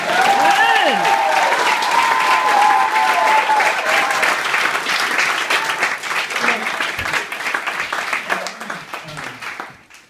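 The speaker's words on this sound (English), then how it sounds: "You clap. You clap." Audience at a campus Christian fellowship testimony event clapping loudly and continuously, with a few cheers and whoops early on, tapering off gradually toward the end.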